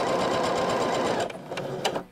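A sewing machine runs a straight stitch at 2.5 length, a rapid close mechanical chatter of the needle for over a second, then slowing into a few separate clicks as it stops.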